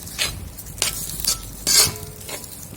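A spoon or spatula stirs fettuccine through a creamy sambal tempoyak sauce in a pan over a lowered flame, a few quick scraping strokes with soft sizzling between them.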